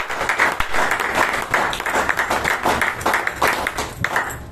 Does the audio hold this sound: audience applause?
yes